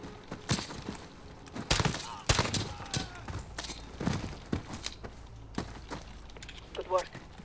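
Gunfire in the Call of Duty Modern Warfare campaign, scattered loud shots and short bursts spaced irregularly, with footsteps and people talking between them.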